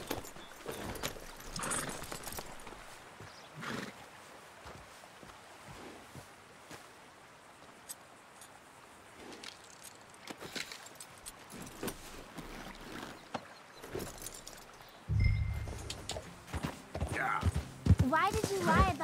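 Horse hooves clip-clop in a steady riding rhythm in Red Dead Redemption 2, moderately close, with voices talking over the hoofbeats and a louder burst of sound near the end.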